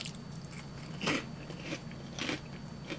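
Sugar-coated, maple-scented puffed snack crunched between the teeth, with two or three distinct close bites breaking crisply amid quieter chewing, no talking.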